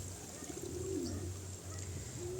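Racing pigeons coo softly and continuously while being soaked with water, low throaty murmurs overlapping at close range with no talk.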